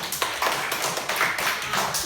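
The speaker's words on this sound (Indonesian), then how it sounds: "Ya, tepuk tangan." Classroom students clapping their hands together, a steady patter of many small claps that fills the short moment, fairly close and moderately loud, with no talking over it.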